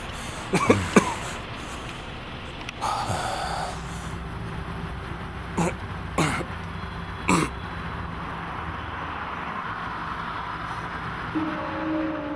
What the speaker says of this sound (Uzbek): Nega yo'talyapsan?